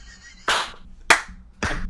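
Three loud, close hand claps ring out at a slow, uneven pace, separated by quiet gaps.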